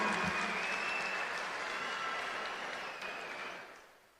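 An audience of women claps enthusiastically at a public event, a dense, steady patter of many hands that fades out over the last second.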